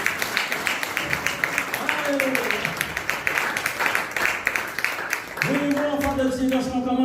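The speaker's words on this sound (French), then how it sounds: "Donnez une bonne main d'applaudissement," Church congregation clapping in steady rhythmic beats during a worship service, loud and close, with voices singing and calling out over the claps.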